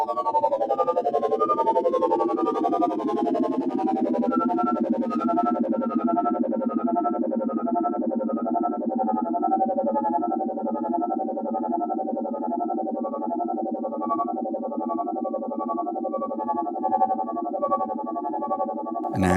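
A harmonic tremolo effect pedal gives a sci-fi, space-like wash to a sustained tone. The sound is loud and continuous, with a rippling, swirling pulse, and ends with an abrupt burst.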